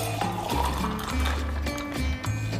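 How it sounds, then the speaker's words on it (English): Pina colada is poured into a glass, with a soft liquid splash and trickle alongside low thumps and handling noise, fairly faint and close. "pour it into this glass."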